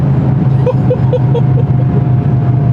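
A 1987 Porsche 930 Turbo with a single large turbo, driving along with a steady, low engine drone and road noise, close and fairly loud, with no one speaking.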